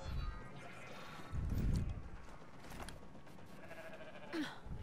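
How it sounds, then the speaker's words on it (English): Goat bleats from the video game Ghost Recon Breakpoint, one louder low cry near the middle and a thinner call toward the end, over busy game background noise. "I hear goats."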